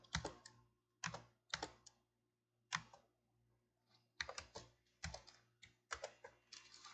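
Typing on a computer keyboard while writing LaTeX code: scattered bursts of crisp key clicks with short pauses between runs, close and clear in an otherwise quiet room.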